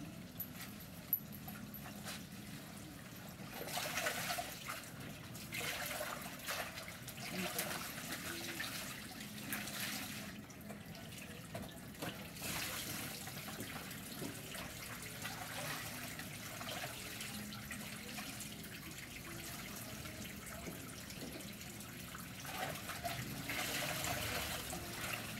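Water runs from a tap while clothes are washed by hand, giving a steady, fairly quiet stream with faint splashing and handling noises throughout, with no talk.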